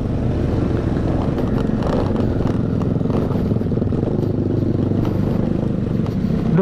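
A motorcycle rides a wet dirt trail at a campground, its engine droning loud and steady throughout, with a faint clatter underneath and no talking.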